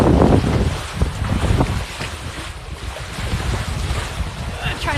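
Sailboat moving at about 7 knots in 14 knots of wind off Sanibel Island, Florida, with steady wind buffeting and water rushing along the hull, loud and close.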